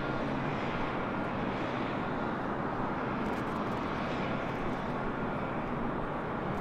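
An Atlas Air airplane passes over a parking garage, its engines a loud, steady, broad roar that stays constant throughout.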